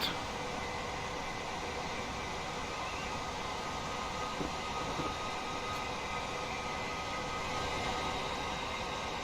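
Class 387 electric multiple unit in Train Simulator Classic cruising over an old viaduct between Brighton and Gatwick Airport, giving a steady, broad rumbling roar with a faint whine, constant in level throughout.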